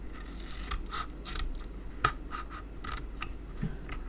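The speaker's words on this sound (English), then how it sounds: "take your scissors and cut to the corner" Small scissors snipping paper close up for crafting, a series of quiet crisp cuts spaced irregularly over a few seconds, with no talking.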